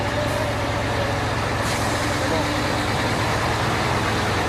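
Trucks carrying a Ferris wheel rumble past, a loud, steady engine drone with a brief hiss of air brakes, heavy and close, with a voice speaking over it.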